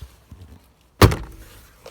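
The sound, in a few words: thumping a car window pane to seat its clips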